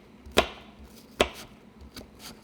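A knife chops through apples on a cutting board, a few crisp, evenly spaced thunks, close by and fairly quiet, with no voices.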